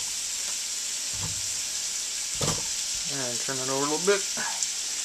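Ground beef sizzles and fries steadily in a hot pan, a constant hiss running under a few brief spoken words, with a little bacon mixed into the meat.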